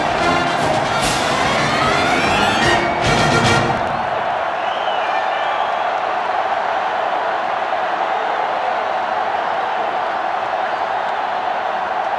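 A stadium crowd in the NCAA Football 07 video game at LSU's home field roars loudly, with a sharp rhythmic burst of cheering. It then settles into a steady, softer crowd murmur that lasts for several seconds.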